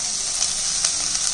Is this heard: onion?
yes